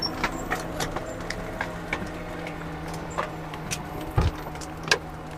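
Metal chains rattle and jingle on a logging machine working a steep farm woodlot, with irregular clinks and taps over a steady engine rumble and a heavier clank near the end.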